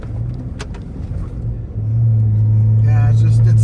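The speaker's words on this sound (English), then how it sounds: "This trombone exhaust is a lot louder too." Ford Raptor with a trombone exhaust, nearly 700 horsepower, rumbling loudly up close, then stepping up into a heavier, sustained deep drone for the second half; a voice speaks briefly near the end.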